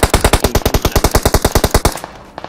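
Rapid automatic gunfire from a PUBG Mobile match, a steady burst of about twenty loud, evenly spaced shots lasting two seconds, then stopping abruptly into quiet.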